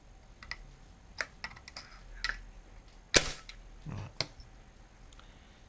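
No4 .303 rifle mechanism worked by hand during servicing: a series of light metallic clicks and ticks, then one sharp snap of the firing action, close and fairly quiet, with no talking.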